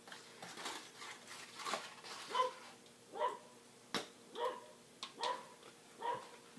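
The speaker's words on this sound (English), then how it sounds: "My dog's barking" A pet dog barking indoors in the background, a string of short, muffled barks and yips spaced roughly every second, faint and somewhat distant.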